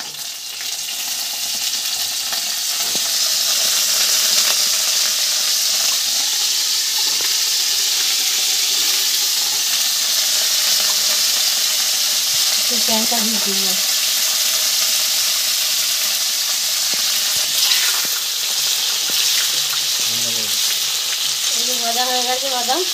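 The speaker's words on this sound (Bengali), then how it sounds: "বাদামগুলো এতে ভেজে নিচ্ছি লোহার কড়াই।" Nuts and pumpkin fry in hot oil in an iron wok, a loud continuous sizzle running throughout with occasional stirring scrapes, while a voice speaks briefly near the start.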